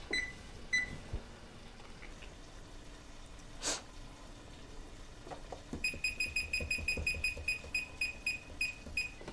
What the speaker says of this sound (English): set the timer for 2 hours